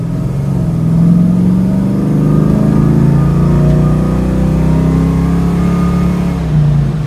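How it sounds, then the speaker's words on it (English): A 1970 Dodge Challenger convertible's engine revs loudly under hard acceleration, a deep droning roar whose pitch climbs steadily through the gear before easing near the end, heard from close by with no talking. "There's a lot of engine noise"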